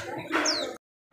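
A caged songbird at an Indonesian bird shop, where cucak kombo are sold, gives a short bright call with a rising whistle, heard once over background chatter before the sound cuts off.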